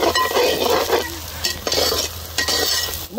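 Cashews fry in hot coconut oil in a pan with a loud, close sizzle, while a utensil stirs and scrapes the pan in repeated strokes.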